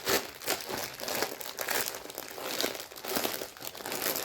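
Crinkly inner plastic wrapping around a cross-stitch picture rustles steadily and up close during unboxing, a continuous crackling with no voices.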